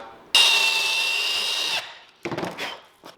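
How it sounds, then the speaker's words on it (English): A power drill spins loudly and steadily for over a second, close by, followed by short scraping and rattling noises. "I drilled it about halfway through"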